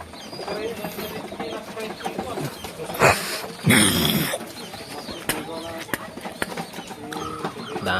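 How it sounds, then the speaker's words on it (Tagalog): Pigeons in a breeder's loft in Pangasinan, with gamecocks nearby, give soft repeated coos and calls. People talk over the birds throughout, and louder rustling bursts break in midway. "Ayan, yung mga kalapati niya mga kalapatids oh."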